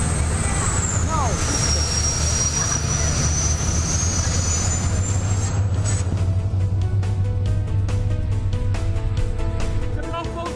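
A 2014 Back Cove Downeast 37 yacht's engine at full throttle near 47 knots gives a loud, steady low roar with constant rushing wind and water noise, unbroken for the whole stretch.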